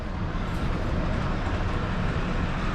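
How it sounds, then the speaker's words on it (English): Continuous low rumbling and rattling of a model toy train running along its track through a tunnel at a toy train museum, steady and close, with no talking. "You can see the trains coming under the tunnel, maybe."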